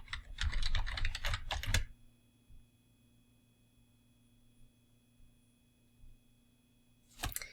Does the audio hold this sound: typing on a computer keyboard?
yes